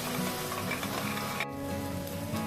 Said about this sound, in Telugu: ఈ టమాటోస్ ఆనియన్ మంచిగా ఫ్రై అవ్వాలి